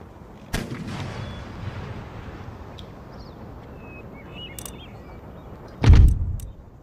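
Infantry volleys in the Empire Total War strategy game with a Prussian army: a sharp, loud crack of musket fire, then a quieter stretch, then a heavier booming volley near the end.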